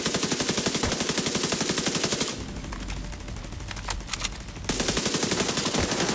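Sustained suppressive automatic gunfire in The Division 2 during a co-op mission at the Space Administration HQ, a loud, steady rattle of rapid shots that pauses for a couple of seconds of quieter battle noise, then resumes at full force.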